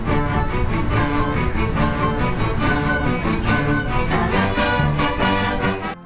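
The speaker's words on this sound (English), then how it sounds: "that is the sound of the Tulsa People's Orchestra" The Tulsa People's Orchestra plays a full, loud ensemble piece outdoors at the annual herb and plant festival in Jenks, with sustained layered melody throughout and no talking.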